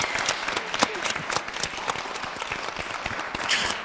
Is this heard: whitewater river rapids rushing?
no